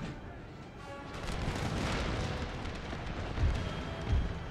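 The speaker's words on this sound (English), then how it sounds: "Canister shot, fire on the dragoons." Battle noise from Empire: Total War, with cannons firing canister shot. Deep booms land over a rumbling, continuous backdrop, and two heavier blasts come near the end.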